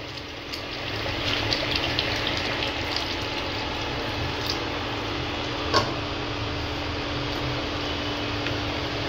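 Warm water poured a little at a time into Bengali-style chicken curry in a pot makes a soft, steady trickling wash with faint clinks, close and quiet with no talk.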